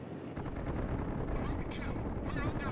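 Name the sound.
ship gunfire in World of Warships video game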